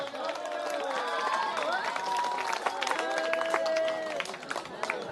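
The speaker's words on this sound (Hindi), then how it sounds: "एक बार जोरदार ताली हो जाए।" An audience at a village drama stage inauguration, after a ribbon cutting, claps steadily and loudly throughout, a dense unbroken patter of applause with scattered sharper claps and a host's voice carrying over it.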